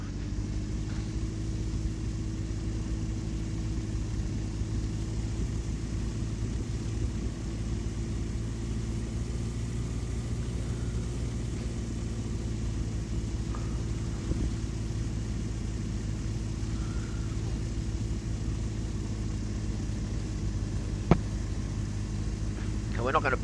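Steady droning engine of an A22LS Foxbat light aircraft taxiing on a taxiway, a constant near rumble throughout with a brief click late on, and people talking over it.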